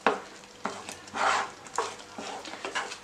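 Pineapple kesari is stirred in a pan with repeated scraping strokes at an uneven rhythm, close and fairly quiet, over a faint background sizzle and with no speech.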